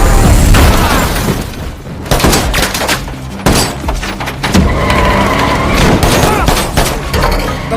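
A film gunfight erupts after a car crash, with loud booms, bursts of gunfire and crashing impacts coming in dense, chaotic waves, sharp cracks punctuating a heavy rumbling din.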